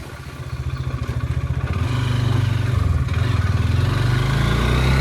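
A motorbike climbs the road up St Thomas Mount, its engine a steady, close, throbbing pulse that grows louder and rougher as it pulls uphill, with no talk over it.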